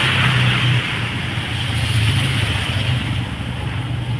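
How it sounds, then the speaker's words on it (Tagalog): A car drives through a small, narrow tunnel in Asin, Tuba, Benguet, with water raining down from above. A loud, steady low engine rumble and road noise fill the clip, along with a broad wash of echoing hiss. No one speaks. "may pumasok naman na sasakyan."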